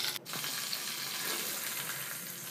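Continuous crackling sizzle of tempering seeds frying in hot oil, close by and steady, with a brief dip near the start.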